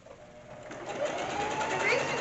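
A sewing machine runs in a steady stitching whir that gradually grows louder, with faint background noise and a few brief squeaks.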